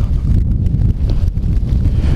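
Heavy wind buffets the microphone during a snowstorm, a steady low roaring rumble with gusting fluctuations throughout and no voices.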